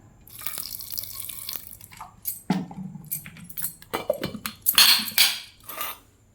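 Water poured from a tap into a mixer grinding jar holding garlic, dried red chillies and cumin, with splashing bursts, drips and clinks in a quiet kitchen, no talk.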